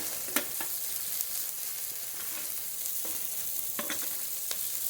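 Ginger and garlic paste frying with onion and tomato in a pan: a soft, fairly quiet sizzle with a few light stirring clicks and scrapes, no talking.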